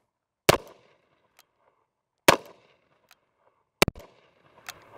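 Three sharp, loud gunshots from a New Home Defender gun at a shooting range, spaced about two seconds apart, each with a short decaying echo, with faint clicks between shots.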